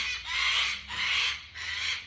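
Cockatoos give three long, harsh screeching calls in steady succession, each lasting about half a second, loud and fairly close, with no talking.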